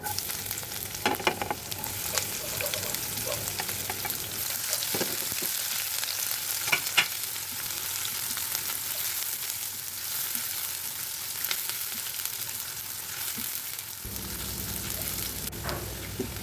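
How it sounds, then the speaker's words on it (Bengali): Chopped onion and garlic fry in a pan alongside dried chillies, a steady close sizzle running throughout with occasional stirring clicks, slightly louder toward the end. "এখন এর মধ্যে আমি পেঁয়াজ কুচি, রসুন কুচি দিয়ে একটু ভালো করে ভাজি করে নিলাম"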